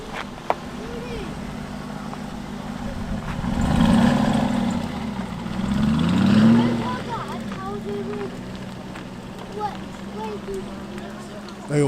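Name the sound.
Aston Martin V8 engine as the car leaves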